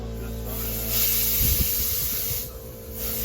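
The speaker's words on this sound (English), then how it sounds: "go ahead and do a couple practice sprays on like some scrap wood" A paint spray gun hisses in a short, steady burst during a practice spray on scrap wood before painting a door, close and loud over a constant background hum.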